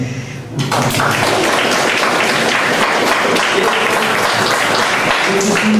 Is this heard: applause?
yes